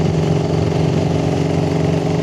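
A carbureted Raider 150 motorcycle engine held at high RPM, sounding strained and laboring on a steep road even after a clutch lining change. It produces a loud, steady, close-up droning hum with no break.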